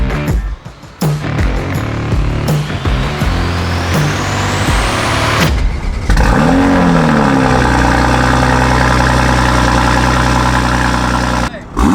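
A 2020 Toyota Supra fitted with an AFE intake, a track-only car, idles and revs, the engine note rising and sweeping through loud revs before settling into a steady, close idle.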